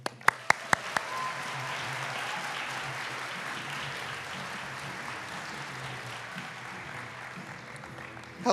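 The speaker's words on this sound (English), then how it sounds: "Let's give Aiden another big round of applause" An audience applauds to welcome a speaker to the stage at a Draft Day event. A few sharp, close claps come first, then a sustained, even wash of clapping runs throughout.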